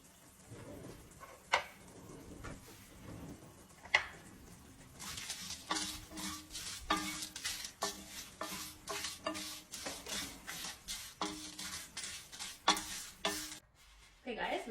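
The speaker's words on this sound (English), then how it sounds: "We're just gonna dry roast these spices." Spices are dry roasted in a pan for a Tamil mutton curry, with a quiet sizzle and repeated rhythmic scraping strokes of a spoon against the pan that grow steady and regular partway through.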